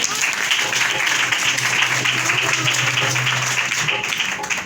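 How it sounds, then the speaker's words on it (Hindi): A church congregation claps together during a Hindi-language sermon, a steady, sustained wash of applause with a faint voice humming or calling beneath it. "आइए एक दफा तालियां बजाएंगे।"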